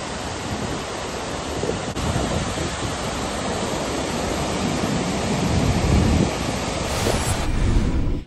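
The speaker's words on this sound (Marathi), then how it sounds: "धरणाच्या IPCO मधून 1200 क्युसेकने हे पाणी नदी पात्रात सोडले जात आहे." Water released at about 1200 cusecs from the Bhama Askhed dam near Khed, Pune, into the river, a loud, continuous broadband roar of rushing water heard close and alone, without voices.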